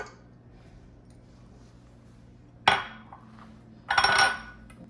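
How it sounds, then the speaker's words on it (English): Two eggs go into a mixing bowl for banana nut bread batter, heard as two brief, close clinks and taps against the bowl with quiet pauses before and between them. "So we're gonna go ahead and add the eggs into the mix."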